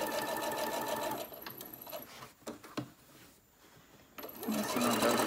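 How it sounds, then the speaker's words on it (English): A sewing machine runs a seam around a fabric lunch tote, humming steadily near the start, pausing briefly with a few clicks, then starting up again loudly at the end. "I'm going to sew that one down just a nice little"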